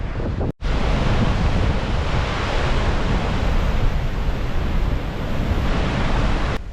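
Strong, steady wind in Wales's Elan Valley buffets the microphone with a dense roaring rush that lasts throughout, briefly dropping out near the start.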